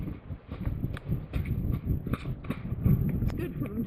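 A horse trots with a quick, irregular clip-clop of hooves close by, the beats running under intermittent talk throughout.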